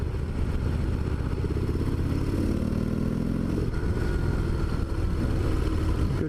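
A 2017 Harley-Davidson Dyna Low Rider S rumbles steadily at close range through a ride, its deep engine loud and continuous with a slight rise in revs partway through.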